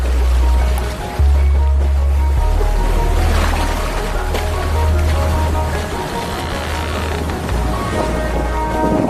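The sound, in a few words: sailboat skimming over ocean water in wind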